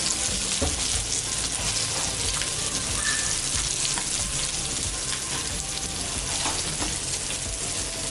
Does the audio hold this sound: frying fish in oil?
yes